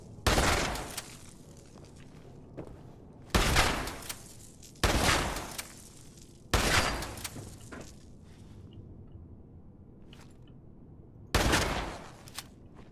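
Shotgun fire in Fallout 76, five heavy booming blasts spaced a second or more apart, each dying into a rumbling tail, with quieter clatter between them and no speech.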